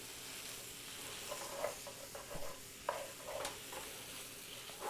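Half-fried cauliflower finishes cooking in a sauce, with a constant sizzle under repeated scraping stirs and a few sharper utensil knocks, close and moderately loud, with no talking.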